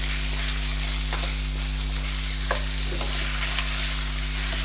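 Chicken pieces fry with onions in a pan, giving a steady close sizzle and occasional stirring scrapes, with a constant low hum underneath and no talking.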